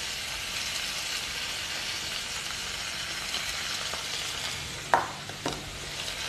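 Mixed vegetables for a Bengali shukto stir-frying in a pan, a constant close hiss of frying with a couple of sharp spoon clicks against the pan near the end.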